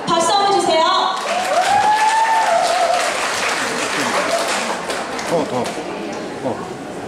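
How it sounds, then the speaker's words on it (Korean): An audience at the 2023 Global K Beauty Star Model awards ceremony breaks into continuous, lively applause that slowly tapers off, with a brief musical tone and voices at the start. "박수 한번 주세요."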